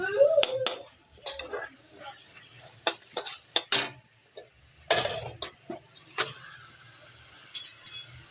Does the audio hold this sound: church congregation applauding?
no